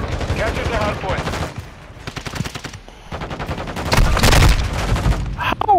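Automatic gunfire in the video game Modern Warfare II during a Hardpoint match, with rapid bursts of shots repeating in quick clusters at close range, some heavier blasts mixed in, and a voice talking over the action.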